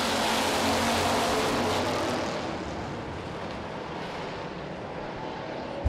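A field of street stock race cars roars away together at the green flag for a short-track heat race, a loud dense engine rumble that swells at first and then settles into a steady, slightly fading drone.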